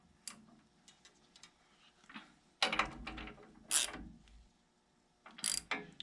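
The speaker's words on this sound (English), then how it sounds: "now we can tighten these down to clamp the uprights in position" Clamp bolts are tightened on the uprights of a boring bar rig for align boring main bearings, producing close ratcheting clicks in short bursts separated by pauses, with no voices.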